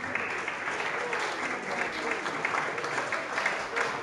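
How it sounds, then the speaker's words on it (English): Steady applause from an audience of students and families at a school award presentation, a continuous dense patter of clapping held at an even level without pause, with no talking over it. "Could we give everyone a round of applause?"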